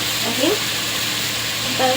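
Meat pieces for stovetop pot kebab, seasoned with paprika and nutmeg, sizzling and frying in a pot while being stirred, a steady hiss with occasional scraping bursts from the stirring.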